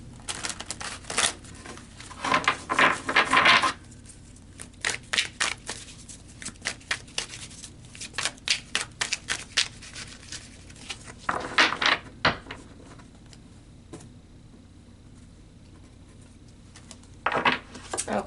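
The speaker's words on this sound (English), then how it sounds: "So let's pull some more cards" Tarot cards being shuffled and drawn by hand at close range, bursts of quick papery riffles and flicks separated by quieter handling and single card snaps.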